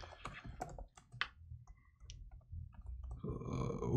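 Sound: typing on a computer keyboard

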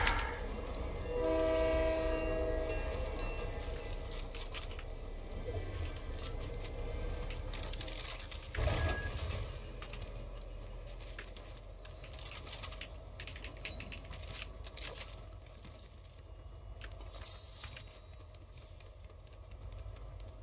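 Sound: train passing in the video game Fortnite

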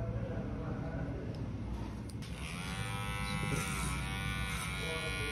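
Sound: hair clipper cutting hair

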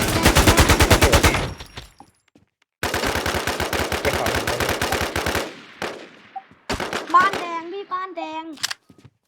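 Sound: gunfire in video game Warz DeadDayz

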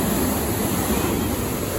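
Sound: fast-flowing river water at the Beas river gates

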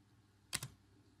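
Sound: typing on a computer keyboard

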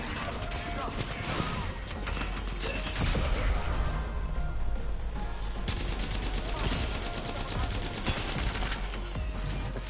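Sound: gunfire from behind in video game Apex Legends

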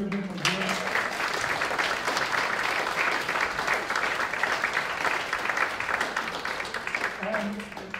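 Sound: audience applause at country jamboree

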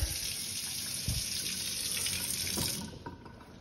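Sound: water running from a kitchen tap

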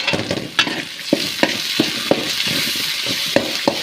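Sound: tomatoes frying with salt in a pan

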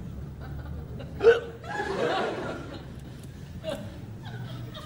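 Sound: hiccups

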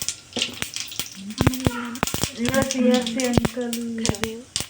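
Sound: cumin and mustard seeds sizzling in hot oil for tempering

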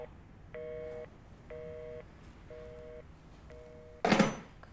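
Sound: telephone busy tone after the call is hung up

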